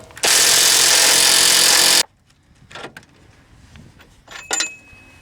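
Impact wrench or power tool spins off a lower control arm bolt with a 21 mm socket on a 2006 Chevy HHR, a loud steady two-second burst, then quieter clinks and shuffling of parts.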